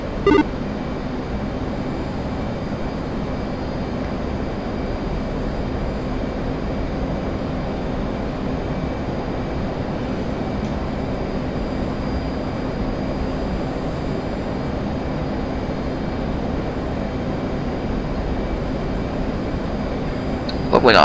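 Steady, unbroken roar of an F/A-18 jet engine in flight in DCS World, a loud, even rush that holds for the whole stretch, with faint voice traces beneath.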